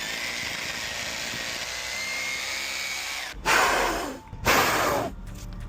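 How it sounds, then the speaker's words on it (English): A power drill bores a hole in the ground outdoors to set a cane post for a dog gate. Two loud, harsh bursts of drilling rise over a steady background hiss, the second shorter than the first. "drill a hole in the ground, get this cane in place"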